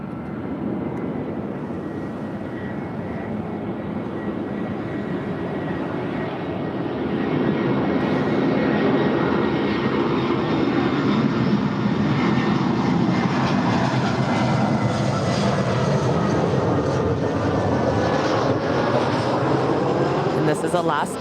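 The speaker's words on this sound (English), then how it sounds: "We do have a United Heavy 777-200ER coming in from Chicago O'Hare, flight 3032." A United Boeing 777-200ER arrives at LAX on runway 24 right, its jet engine roar steady, then swelling louder and closer at the end, with faint talk mixed in.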